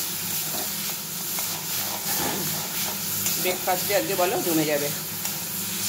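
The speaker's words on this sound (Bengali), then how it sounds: "আর এখানে দেখো বেগুন পোড়াটা আমি আবার একটু কড়াইতে নেড়ে নিচ্ছি, ওই তেলটার মধ্যে দিয়ে দিয়েছি" Roasted eggplant stirred in hot oil in a wok, a steady close sizzle and hiss with scraping strokes, while someone talks over it.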